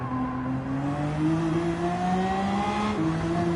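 GR1 race cars in Gran Turismo 7 rev at Daytona with a steady, loud engine drone whose pitch climbs gradually, as several cars accelerate together.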